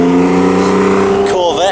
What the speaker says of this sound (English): Corvette.